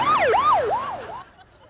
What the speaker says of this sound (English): We're gonna need stock footage of an ambulance.